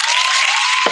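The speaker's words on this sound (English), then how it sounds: "Round of applause, bro." A dense burst of clapping and cheering from a crowd, steady and loud throughout, with a brief low thump near the end.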